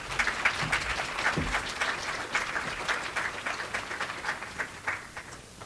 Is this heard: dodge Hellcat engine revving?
no